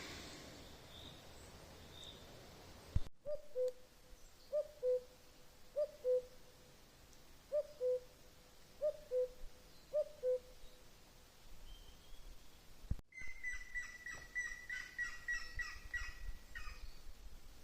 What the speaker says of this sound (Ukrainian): Цей звук це великий чорний дятел.